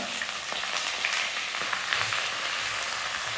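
Cumin, whole spices, black pepper, cinnamon and chopped onion fry in hot oil with a steady, close crackling sizzle throughout and a few faint stirring scrapes.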